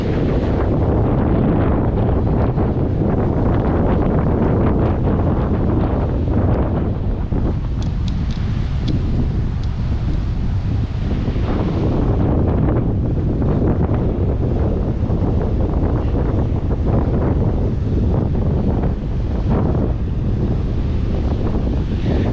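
Strong wind buffets the microphone on a Baltic beach on the Curonian Spit near Klaipėda, a loud, constant roaring rumble with surf washing underneath and no speech.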